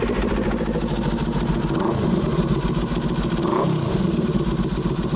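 Motorcycle engine revving loudly nearby, a continuous throaty rumble with a rattling texture that rises and falls in short rev surges.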